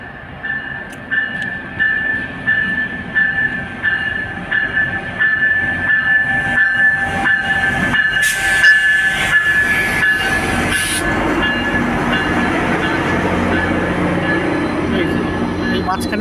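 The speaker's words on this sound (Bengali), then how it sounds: "উল্টো দিকের লাইনের একটা ট্রেন আসছে।" A double-decker GO train near Burlington, Canada, passes on the opposite track with a loud, close rumble and rushing wagon noise that builds and then holds steady.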